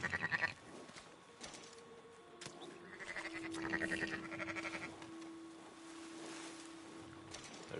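Sheep bleat in the video game Red Dead Online, several faint, wavering calls spread across the scene among quiet in-game ambience.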